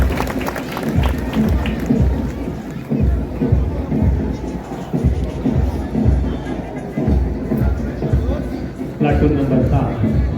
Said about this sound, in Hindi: कृपया जोरदार ताली बजाकर इनका हौसला बढ़ाएं